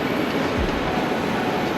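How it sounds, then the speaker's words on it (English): A steady broadband rumble of rail noise fills a large space, like a train running nearby, with no voices, inside Berlin Central train station. "here we are in Berlin Central train station"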